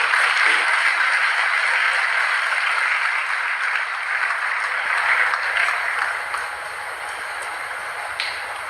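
A gathered audience claps loudly and steadily for Supriyo Chaudhary of Guwahati, Assam, just named president of the Shankar Sena, a dense patter of many hands that holds strong before easing slightly toward the end.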